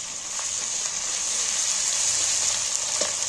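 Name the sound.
onion with ginger garlic paste frying in oil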